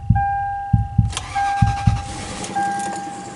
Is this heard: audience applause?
no